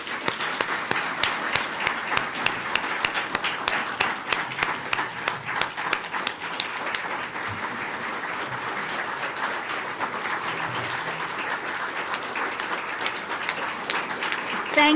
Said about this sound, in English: The applause is premature.